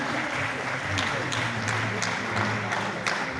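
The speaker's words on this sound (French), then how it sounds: "Bravo, merci de les applaudir encore." An award ceremony crowd applauding a prize given for a film at an African series event, dense and loud clapping sustained evenly with a faint voice murmuring beneath.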